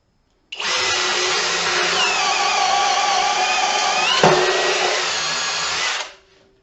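A power drill boring into a workpiece starts abruptly and runs for about five and a half seconds with a steady high whine, then cuts off and spins down.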